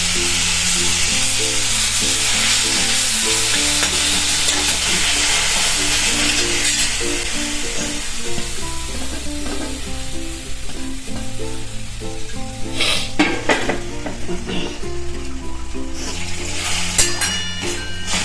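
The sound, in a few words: grated beetroot sizzling in hot ghee, stirred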